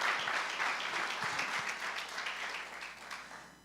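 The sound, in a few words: congregation applause in church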